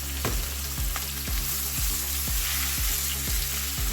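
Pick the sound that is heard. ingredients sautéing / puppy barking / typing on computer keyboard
ingredients sautéing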